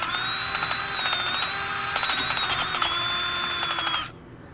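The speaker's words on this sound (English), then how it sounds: "Just give it the old ream around." A power drill whirs steadily while reaming a hole during a 1969 Camaro brake upgrade, with rapid ratcheting clicks over the whine, then cuts off abruptly near the end.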